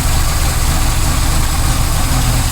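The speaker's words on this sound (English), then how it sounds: "we just got our little 306 running" A Ford Fairlane's small 306 V8 runs steadily at a rough idle, a loud, close, continuous low rumble that holds an even throb throughout with no other sounds.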